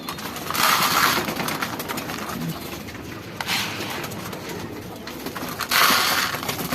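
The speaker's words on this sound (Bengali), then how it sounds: "সবগুলা কবুতরে খাবার দিলাম একসাথে দলবদ্ধ দেখাইতেছে, কিন্তু আমাদের ব্ল্যাককে খাবার দেওয়া হয় ন" Pigeons gathered at feeding time in a loft coo softly under a loud, busy background of rustling and scratching, with bursts of wing flapping breaking through every few seconds.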